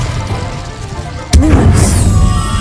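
An Incendio fire spell in Hogwarts Legacy bursts with a sudden sharp crack midway, followed by a loud crackling fiery roar that lingers, with earlier low rumbling ambience before it.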